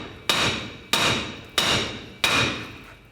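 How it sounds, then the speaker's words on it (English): Four sharp metallic hammer strikes on a nut at the lower control arm of a 2007-2014 GMC Sierra 3500 HD truck, evenly spaced about two-thirds of a second apart, each ringing briefly before the next blow. "just use a hammer and give it a tap"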